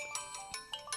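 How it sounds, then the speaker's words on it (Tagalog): A cellphone ringtone chimes in a short run of bright, repeating electronic notes, fairly faint and heard on its own without talk. "Itay pa'y ngagriring ti cellphone ni Limuel."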